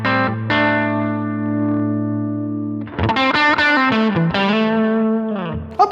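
Distorted electric guitar through a compressor-driven overdrive on a Line 6 Helix: a sustained held chord rings out, then a burst of loud, gritty strummed chords with a thick, saturated edge.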